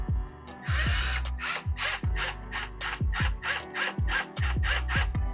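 A power drill whirs loudly, then fires in a rapid series of short ratcheting bursts, close by.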